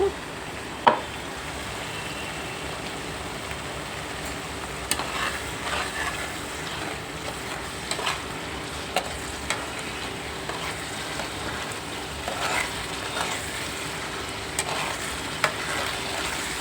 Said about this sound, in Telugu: బాగా వేగాలి వేగితే పచ్చివాసన పోవాలి బాగా వేగిందండి ఉల్లిపాయ ముద్ద